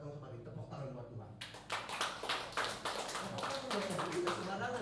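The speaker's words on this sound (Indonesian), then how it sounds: "Tepuk tangan buat Tuhan" A church congregation of elderly worshippers breaks into loud, sustained applause that starts abruptly and continues with dense clapping, following a spoken voice.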